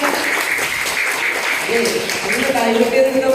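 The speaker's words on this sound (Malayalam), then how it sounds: "നല്ലൊരു ക്ലാപ്പ് കൊടുക്കണം മക്കളെ" Schoolchildren at a school literary club inauguration clap together in a fairly loud, continuous burst, with faint voices and a little room noise mixed in beneath the applause.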